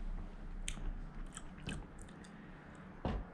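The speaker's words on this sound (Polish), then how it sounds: "Dobra, ja gryzę żółtko." A century egg is bitten and chewed up close, with a few sharp crunchy bites and soft wet chewing between them, ending in one louder bite, no talking over it.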